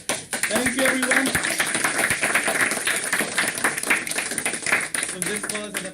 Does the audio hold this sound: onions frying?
no